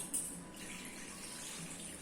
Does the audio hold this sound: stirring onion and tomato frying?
no